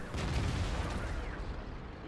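A tank cannon booms in World of Tanks, one heavy low blast with a rumbling tail that fades over about two seconds.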